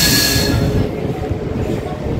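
A MEMU passenger train pulls out of Kovvur station in the early morning, a loud, close rumble of carriages and wheels on rail with a fading high squeal at the start and no talk.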